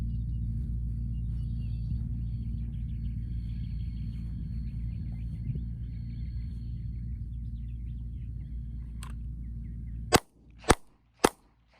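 Three sharp handgun shots fired at a target from 7 yards in quick succession near the end, after a long stretch of low outdoor rumble; the shots are loud, close and evenly spaced within about a second.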